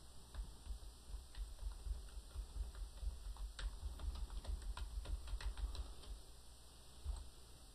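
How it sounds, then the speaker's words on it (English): Someone types on a computer keyboard, producing a quiet, irregular run of soft key clicks over a low background hum, with no talking. "I'm going to type, "This is a file I can save.""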